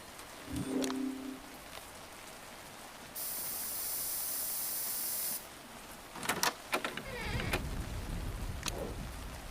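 A steady spray hiss onto a lock runs for about two seconds, set between scattered clicks and rustling game sound effects, in the video game Murder By Choice: Clue Mystery.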